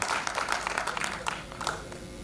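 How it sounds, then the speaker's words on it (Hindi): Audience applause at a mobile app launch ceremony, a fairly quiet, diffuse patter of many hands clapping that continues throughout the brief moment. "जोरदार तालियों से आप लोग स्वागत करेंगे।"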